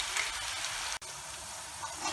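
Cabbage pakoda frying in oil over a slow flame, a steady dense sizzle with a brief dropout in the middle, close and fairly loud.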